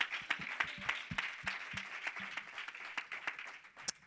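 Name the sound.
church congregation applause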